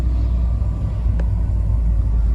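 A small low-displacement car engine pulling in second gear at low revs, a steady deep rumble and drone heard from inside the cabin, continuous and fairly loud with no speech.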